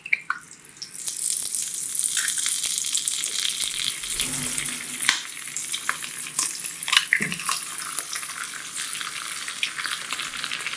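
Eggs fry in heated oil and butter in a pan, giving a steady close crackling sizzle with occasional louder pops throughout, with no talking.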